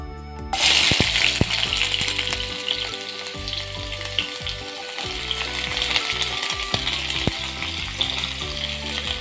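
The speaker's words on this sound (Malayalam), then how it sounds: "ഉലുവയൊന്ന് ചൂടായി കഴിഞ്ഞാൽ ഇതിലേക്ക് നമുക്ക് അരിഞ്ഞു വെച്ചിരിക്കുന്ന സവാള ഇട്ട് കൊടുക്കാം" Sliced onion drops into hot oil with fenugreek seeds for a hotel-style fish curry, bursting into a loud, dense sizzle that stays steady and close, with scattered crackles and pops and no speech.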